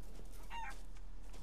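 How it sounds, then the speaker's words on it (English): A chicken in Resident Evil Village gives a single short, squawking cluck, mid-distance and moderately loud over a low steady hum. "Chicken!"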